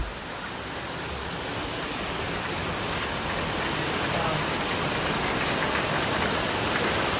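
Heavy rain pours down on a flooded street in Talegaon, a dense, steady hiss of water that stays loud and unbroken throughout, with no voices.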